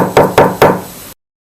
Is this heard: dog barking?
no